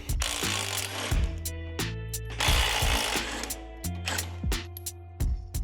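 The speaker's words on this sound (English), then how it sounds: "next up is gonna be removing our shock bolts. And these shock bolts are a 19." Impact wrench on the 19mm rear shock bolts of a 2024 Harley-Davidson Road Glide, several loud close bursts of rattling hammering separated by short pauses.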